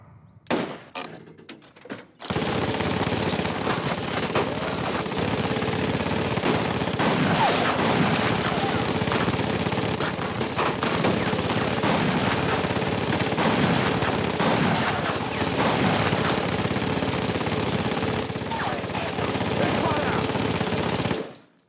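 Sustained, dense gunfire volley from a squad of rifles firing on command in a film battle scene, loud and continuous for about twenty seconds after a brief quiet start.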